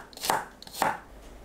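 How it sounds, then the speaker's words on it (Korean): Knife slicing garlic on a cutting board for a pork belly and shishito pepper dish, two crisp close cuts about half a second apart, with no talking. "마늘을 팬으로 썰어주세요."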